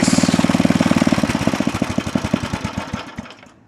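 A small rototiller engine, just back from a carburetor cleaning, chugs close by in an even pulsing beat that gradually slows and sputters to a stop.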